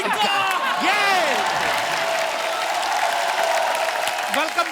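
Studio audience applause and cheering welcoming a rapper on a comedy talk show, a steady dense clapping wash throughout with a host's voice and music over it.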